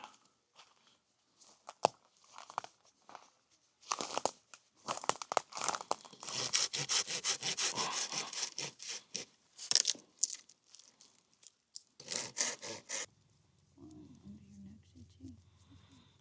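A small hand saw cuts wood at an island off-grid campsite, giving bursts of rough rasping strokes, with a dense stretch in the middle and pauses between, while people talk nearby.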